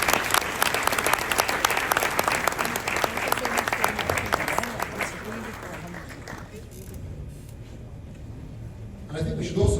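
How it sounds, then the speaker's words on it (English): An audience at a Q&A talk gives a warm round of applause to the speakers, dense clapping that fades after several seconds to quieter scattered claps and murmuring. "a warm round of applause for our fantastic speakers"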